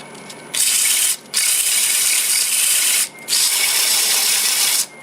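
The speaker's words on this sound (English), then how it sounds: "I'll go ahead and sand it from 80 to 400" A wood turning being sanded on a running lathe, working from 80 up to 400 grit with the lathe in reverse, gives a loud, steady hissing whir in three long bursts separated by short pauses.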